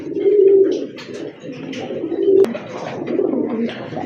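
Pigeons coo in low, throaty, repeated calls close by, with some rustling and flutter in the background.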